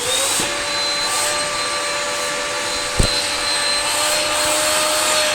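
A Beko vacuum cleaner running steadily and loudly at close range, a continuous whining drone with a sharp tonal motor whine, with one brief click partway through and no talking.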